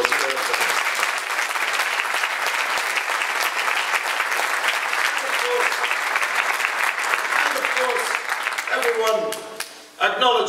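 Sustained audience applause fills a hall during a speech in Winnipeg, a dense, steady wash of clapping for about ten seconds. It dips briefly near the end as a voice cuts in, then swells again.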